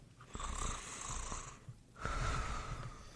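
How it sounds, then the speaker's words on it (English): Snoring from a sleeping man, two long rasping breaths with a whistling, wheezy edge, close and fairly quiet, separated by a short pause. "That was me snoring."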